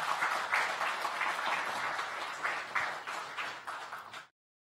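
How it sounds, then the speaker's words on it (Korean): An audience at a Korean political rally claps together, a dense, even wave of applause for about four seconds before it cuts off abruptly. "박수 한번 보내주십시오."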